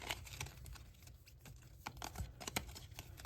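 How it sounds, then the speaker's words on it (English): A small deck of game cards being shuffled close up, a quick run of soft, crisp riffling taps and flutters, quiet and without talk. "Let me just give these a little shuffle."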